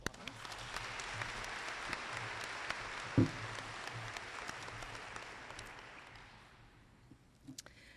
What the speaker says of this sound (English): You can give them another round of applause.